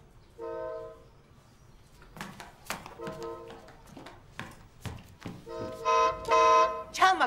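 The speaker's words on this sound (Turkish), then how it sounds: "Çalma korna aşağıdan." A car horn honks repeatedly from the street below, short bursts and a longer blast at mid distance, mixed with other tapping street sounds.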